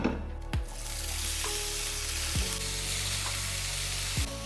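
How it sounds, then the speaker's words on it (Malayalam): Beans and spinach tempering in a pan, a steady close sizzle with a few sharp clinks of a utensil against the pan every couple of seconds. "അപ്പം അത് നമുക്കൊന്ന് ടെമ്പർ ചെയ്യാം"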